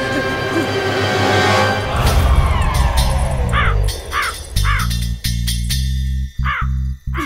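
A crow caws loudly several times in short bursts over a backdrop of steady music.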